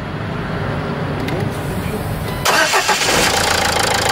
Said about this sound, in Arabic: توا باش نخدم المحرك ونسمعكم صوته